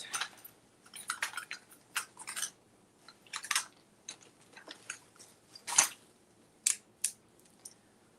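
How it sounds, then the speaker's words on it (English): Scissors snipping near and close up during a craft session, a series of short crisp cuts in an irregular rhythm with brief pauses between, quiet and alone without talk. "Okay, and scissors."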